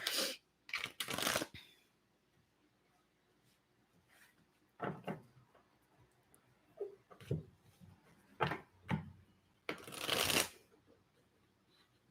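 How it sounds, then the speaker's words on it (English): Tarot cards shuffled in several separate bursts of riffling and bridging, close and crisp, with quiet pauses between them and no talking. "And I'll start shuffling."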